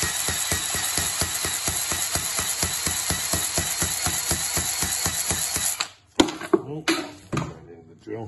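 A power drill spinning a cylinder hone in a Rootes 1600 engine block whirs steadily with a rapid rhythmic chattering for several seconds, then stops, followed by a few clunks and handling noises.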